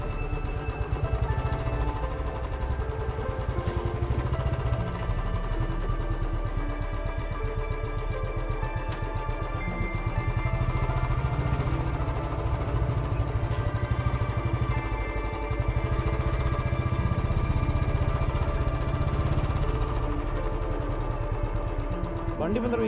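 A motorcycle engine runs steadily with a rapid buzzing rhythm on a Western Ghats road, close and loud, revving slightly as the ride continues over some twenty seconds.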